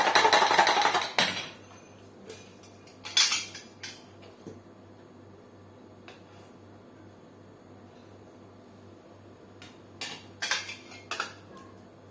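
Metal whisk clinking against a bowl while beating eggs in quick bursts, loud at the start, then sparse taps and another rapid clattering run near the end.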